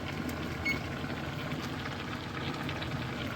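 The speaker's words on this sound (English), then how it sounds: "So now the beans have started to boil" Dry beans boiling in a pot on the stove, a steady, close bubbling and hissing wash that holds evenly throughout with no talk.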